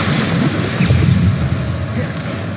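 Bombarda spell detonating during Hogwarts Legacy gameplay, a heavy, sustained low rumbling boom that fills the whole stretch with dense crackling debris above it.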